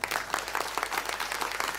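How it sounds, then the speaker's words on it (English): An audience at a product launch event claps steadily in a brief burst, soft and even with no voices over it. "Let's welcome him with a thunderous applause."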